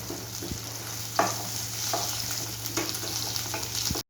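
Potatoes fry in hot oil with a steady close sizzle, during a Bengali katla fish kalia recipe. Occasional stirring scrapes and clicks sound over the frying, with a low hum underneath and no talking.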